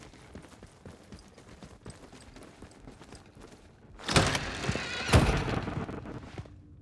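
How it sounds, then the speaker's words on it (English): A door in the video game Atomfall slams with a loud, echoing boom, followed by a second heavy hit and reverberant rumble that fades out, after a stretch of quieter clattering game sounds. "Why'd that door slam loud and echo?"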